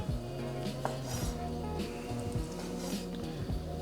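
Knife slicing sausages into little circles on a board, a quick series of light chopping taps and clicks over a low background hum.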